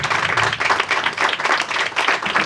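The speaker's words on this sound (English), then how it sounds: "So you guys deserve a big round of applause, every single one of you." A crowd claps at an outdoor downtown revitalization press conference, a brief, continuous patter of hands that stays at an even level throughout, with no clear talk over it.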